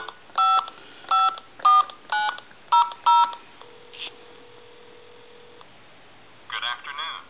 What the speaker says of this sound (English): I want to switch the line over into a regular telephone line and dial like a time and temp number.